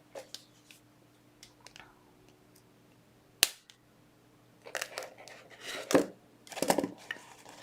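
Snipping metal strips away from a woven pendant with cutters: several sharp, isolated clicks and snaps spaced apart, one crisp cut standing out, then a cluster of louder cuts close to the mic, with no voices.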